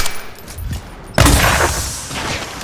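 Video game gunfire: a sudden sharp burst of shots cracks in partway through, then rattles and decays, over a low murmuring game background.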